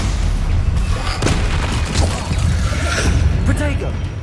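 A Stupefy spell fires in the Hogwarts Legacy video game, a loud, dense stretch of booming, crackling combat noise with repeated impact bursts and a voice over it.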